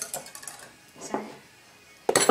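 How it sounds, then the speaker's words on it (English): A single egg is whisked in a bowl, heard as a few light metallic clinks and taps of utensil against dish, sparse at first and then a quick close flurry at the end. "whisk the 1 egg. Whisk it. Whisk it really well"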